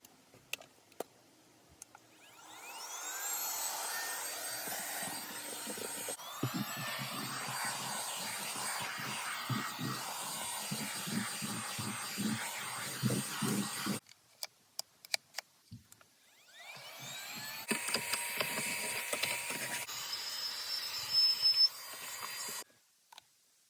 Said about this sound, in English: little handy portable vacuum